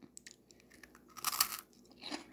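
Close, crisp crunching and chewing of Pokemon chocolate corn treats, a few bites with a loud burst in the middle and another toward the end, with no talking.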